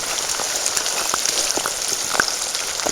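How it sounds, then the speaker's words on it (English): Steady rain patters on a trail during a hike near Lena Lake, a dense, even hiss of drops with a few sharper nearby splats, continuous and close with no voices. "I've been hiking in the rain for 6 miles."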